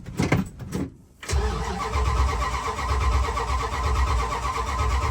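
A 1978 Dodge D200 crew cab truck with a 440 engine and a weak accelerator pump, cranking briefly, then catching and running at a loud, steady idle close by.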